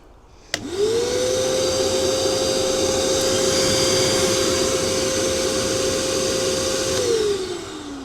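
A 1200 watt suck-and-blow vacuum blower switches on with a click, spins up quickly to a loud, steady whining roar with a strong tonal hum, runs for several seconds, then winds down.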